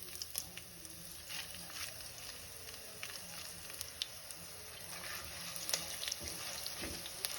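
Spices such as fennel, coriander and curry leaves with rice dry-roasting in a hot pan for a baby corn masala curry, giving a steady close crackle and faint sizzle with scattered small pops and stirring scrapes.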